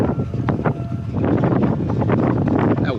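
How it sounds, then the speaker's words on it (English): Strong wind buffets the microphone over a Louisiana marsh, a continuous loud rumbling roar with gusty fluctuations throughout. "That wind is blowing."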